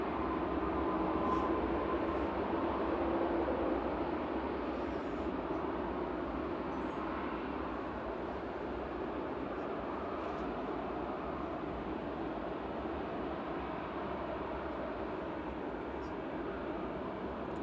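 A Qatar Airways airliner taxis onto the runway at Manchester Airport, a steady broadband engine rumble and whine that holds level throughout, moderately distant, with faint voices audible underneath.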